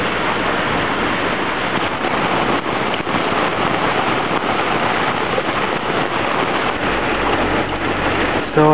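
Steady loud rain hisses and patters densely on a boat on a rainy day off Roatan, continuous broadband downpour close by with no talk.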